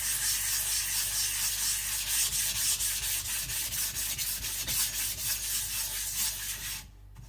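A Shapton Pro 220 sharpening stone is flattened with a steady, gritty rubbing scrape that runs back and forth in short strokes, close and fairly loud, then stops abruptly near the end.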